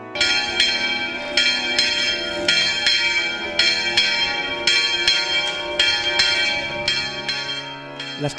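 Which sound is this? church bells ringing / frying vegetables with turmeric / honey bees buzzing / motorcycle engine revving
church bells ringing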